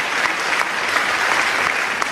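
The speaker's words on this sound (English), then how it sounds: "give Mike a round of applause" Steady applause from a keynote talk audience at William Paterson University, continuous clapping throughout at a fairly loud, even level.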